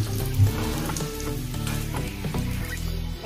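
Stuffed bitter gourds (karela) frying in hot oil in a pan, a steady close crackling sizzle with fine popping throughout, no voices.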